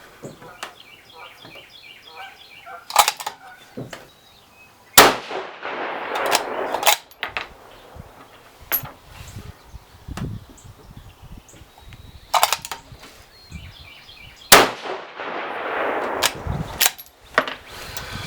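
Rifle firing 6 GT cartridges loaded with Staball Match powder: several sharp, loud single shots spaced seconds apart, each followed by ringing echo and mechanical clatter of the action, with brief talk between.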